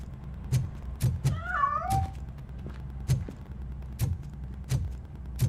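A cat meows in a short run of rising and falling cries within the Robocop Rogue City video game, heard against a steady low background hum punctuated by periodic soft thumps.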